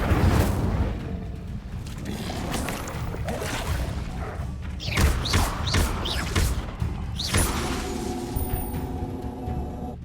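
Incendio fire spells cast in the Hogwarts Legacy video game, a run of loud whooshing bursts and crackling impacts over a dense, busy game soundscape with no voices.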